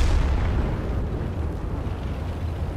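A heavy tank cannon blast from a Panzer IV in World of Tanks booms at the start and rolls away into a low, rumbling decay.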